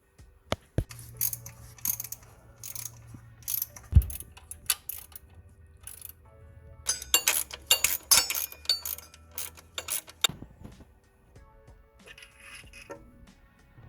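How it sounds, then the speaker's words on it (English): Ratchet and tools removing timing cover bolts on a 1998 Nissan Pathfinder V6, clusters of close metallic ratcheting clicks and clinks between quieter pauses, a sharp knock near the middle, no talking. "I'm just going to continue on taking the cover bolts out"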